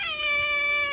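A female cat meows in one sustained, loud, close call with a clear harmonic tone, alone and without talk.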